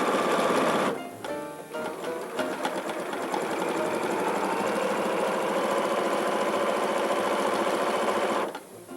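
A sewing machine with a new size 80 needle, freshly oiled, stitches at high speed in a loud, close, continuous rapid whirring rattle, with a brief pause early on and a stop just before the end.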